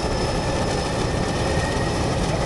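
Turbo Thrush 510P crop-duster turboprop engine running steadily on the Dabou airstrip before takeoff for spraying, a loud, continuous broadband roar with a faint whine, close and unbroken throughout.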